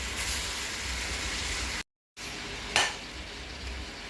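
Chicken is stirred into sautéed onion and garlic in a pan for tinola, giving a close, steady sizzling hiss with a short silent gap and a sharp utensil clatter on the pan.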